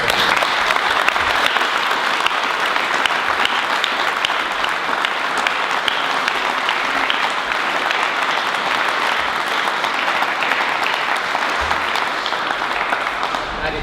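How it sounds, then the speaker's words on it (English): An audience applauds after a coaching Q&A talk, a dense, loud and steady clapping that holds without a break for about fourteen seconds. "Guys, give Eddie a huge round of applause."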